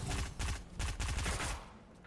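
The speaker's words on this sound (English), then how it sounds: "Some friendly back and forth fire between each other with that new pistol that they released just a couple weeks ago" Rapid bursts of pistol gunfire trade back and forth in a video game shootout, several quick shots in clusters, fairly faint, with no talking.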